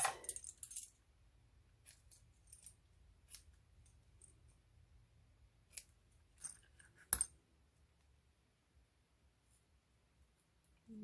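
Small snips cut through sequined craft ribbon, making a few sparse, quiet snipping clicks with long near-silent gaps between them.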